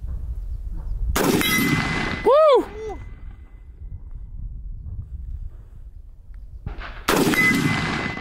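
A Sig 716i rifle fires two loud, sharp, close reports about six seconds apart, each ringing out briefly, with quieter ambient noise and a short tonal whoop between them.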